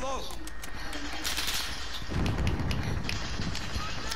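Gunfire in Call of Duty Black Ops 4, a steady rattle of shots in a warehouse fight, with a heavier burst in the second half and people talking over it.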